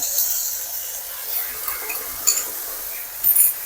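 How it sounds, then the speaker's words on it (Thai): Morning glory and salted fish being stir-fried in a wok, a steady hiss of sizzling with scraping spatula strokes and a few sharp metallic clinks near the end. "จากนั้นก็ผัดให้เข้ากัน"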